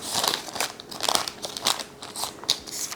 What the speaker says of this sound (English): Peel the paper away,